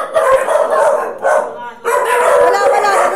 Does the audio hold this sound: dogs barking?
yes